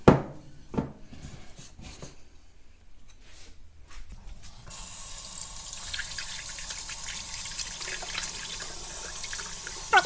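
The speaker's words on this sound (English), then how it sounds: "I like to rinse the bowl out so that it gives the dough anything to stick to" A sourdough dough bowl is rinsed out with tap water: a few soft knocks at first, then running water splashes steadily into the sink for the second half.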